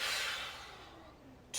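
A single long exhale through the nose during a Pilates Superman pose, a breathy rush that starts loud, slowly fades, and is followed by the start of the next breath, close by with no talking.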